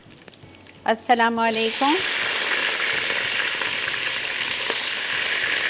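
Vegetables with bottle gourd and garlic sizzling in a frying pan, a steady close hiss that follows a brief spoken greeting and continues alone to the end.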